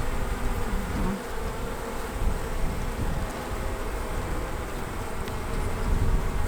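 A dense, steady insect buzz of many honey bees, continuous and close, with no talking.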